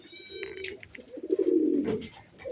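Pigeons coo in low, throaty rolling calls, with one swelling coo loudest near the end, among a loft of male pigeons including a Nepali breed; faint higher chirps sound early on.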